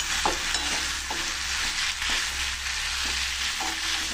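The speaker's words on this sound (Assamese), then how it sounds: "এইটো যে মটৰ উৰহিটো এইটো ভাজি বনাইছো" Steady sizzling of peas frying in a wok, with periodic scraping strokes of a spatula stirring them, no voices.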